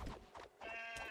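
A sheep in the video game Craftopia bleats, a short wavering nasal cry near the end, preceded by a few soft game sounds, fairly quiet overall.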